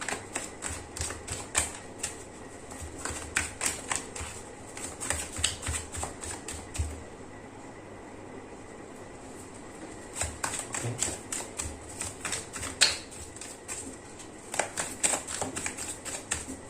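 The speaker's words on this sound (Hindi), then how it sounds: "कार्ड को शफल कर लेते हैं।" A deck of tarot cards being shuffled in repeated bursts of crisp riffling and flicking, close and fairly quiet, with short pauses between passes and no voices.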